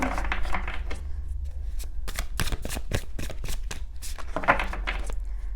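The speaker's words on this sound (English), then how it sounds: "That was a bad shuffle." Tarot cards are shuffled by hand in quick riffling bursts, a run of crisp flutters and taps close up, ending with a louder burst; no one speaks.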